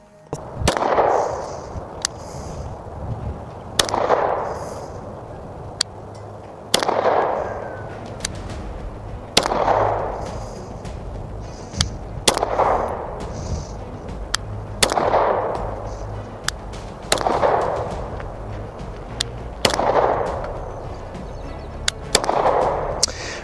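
Ten slow, evenly spaced shots from a Star 30M pistol fired at a 20-yard target, each a sharp loud crack with a short ringing decay, spaced roughly three seconds apart with no talking.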